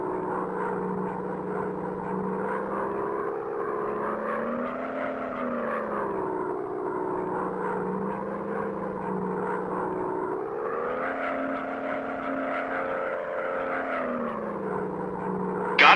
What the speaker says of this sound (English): Enemy bombers approaching.